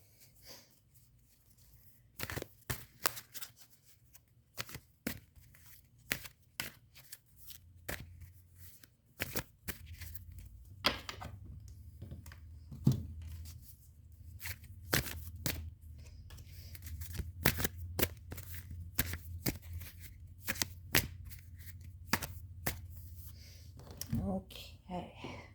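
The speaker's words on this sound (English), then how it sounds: "going to shuffle" A deck of tarot cards is shuffled by hand, giving a long series of crisp riffling and slapping bursts, close and fairly quiet, some rapid and others spaced out, with a low hum underneath.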